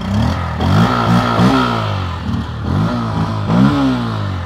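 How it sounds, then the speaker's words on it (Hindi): A TVS Apache RTR 160 4V motorcycle is idling and then revved in repeated throttle blips. The exhaust rises and falls close by, with some mechanical clatter and no voices. "आइडियल कंडीशन पर engine sound, exhaust note, throttle देता हूँ"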